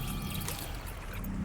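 In Subnautica 2, the character drinks water, heard as a short liquid pouring and gulping effect with watery trickles, brief and close.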